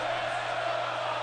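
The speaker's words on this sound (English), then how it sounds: "this crowd seems to be stuck in the loop of chanting for Man United" A looping stadium crowd chant from the Sensible Soccer 2020 football video game, a steady dense roar of massed voices that holds at an even level throughout.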